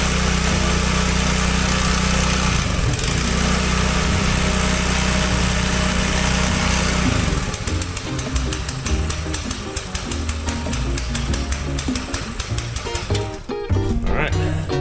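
Small gasoline engine cranked and starting, a loud steady drone that roughens into a faster, uneven running chatter, close up.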